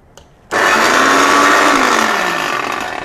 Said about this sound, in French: je n'avais même pas éteint le mixeur